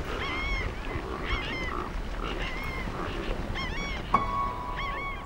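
Aquatic birds gather to feed in a mangrove forest, a dense chorus of goose-like honks and duck-like calls overlapping continuously, with one sharp louder cry near the end over a steady ambient background.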